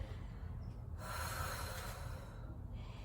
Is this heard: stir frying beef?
no